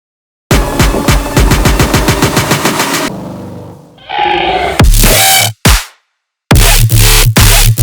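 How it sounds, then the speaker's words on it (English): A mono dubstep patch from the Serum synth, loud and aggressive, with a rapid stuttering pulse, then a growling sweep, heavy wobbling bursts and abrupt cutoffs with short silent gaps. "this is like a Serum patch right here."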